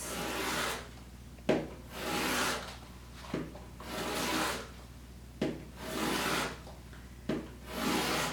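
A knife slices through tassel material in roughly half-inch cuts, giving soft rasping strokes, about five close, steady passes separated by brief sharp taps and quiet gaps, with no talking.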